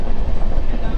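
Rails rumble under the Saraighat Express from Kolkata to Assam, a loud, close, continuous clatter and drone heard from on board for about a second.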